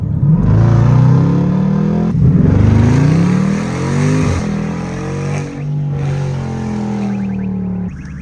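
A Jeep engine revs hard as it pulls out, loud and close, its pitch climbing and falling in several surges over about eight seconds.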